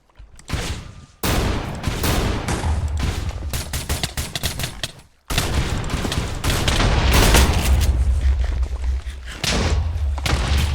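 Rapid bursts of Minecraft gunfire rattle continuously, with dense volleys and booms separated by brief pauses, loud and up close.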